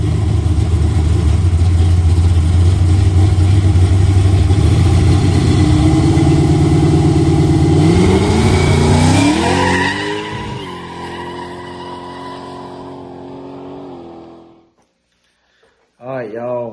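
A boxy Chevy's big engine roars loudly, revving and climbing through gear changes with tire squeal as it drives off. The sound then fades to quiet, and a short burst returns at the very end.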